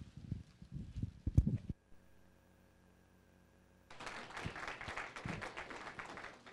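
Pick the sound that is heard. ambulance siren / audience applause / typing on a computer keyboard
audience applause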